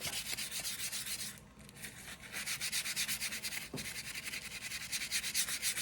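Steady back-and-forth scrubbing of grease and soot smudges off tool grips, a rhythmic close rubbing with a brief pause partway through, no voices.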